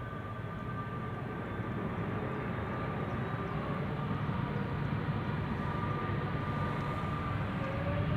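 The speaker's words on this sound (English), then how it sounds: "another 330" Airbus A330 airliner at Schiphol Airport, a steady, distant jet roar with a faint whine that holds evenly throughout, with no voices.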